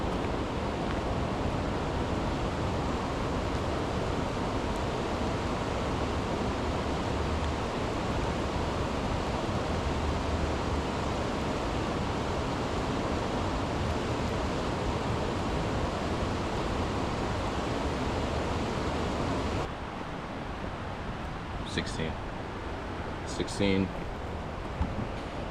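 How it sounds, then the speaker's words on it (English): A river rushes steadily during a rainy hike toward a bamboo forest along the Chattahoochee, a loud, continuous broadband wash filling most of the stretch before dropping to a quieter, thinner flow near the end with a few faint clicks. "Oh, actually, this is a river."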